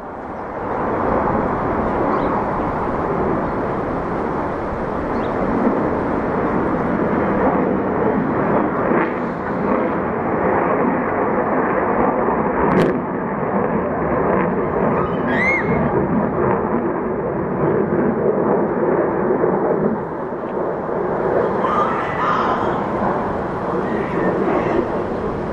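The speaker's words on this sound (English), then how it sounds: "Here comes a fighter jet." A fighter jet passes over Arlington, Virginia with a loud, continuous, broad roar that holds steady for nearly half a minute, swelling and rumbling like distant thunder without any voices.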